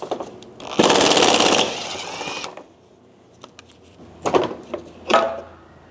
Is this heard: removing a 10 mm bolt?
yes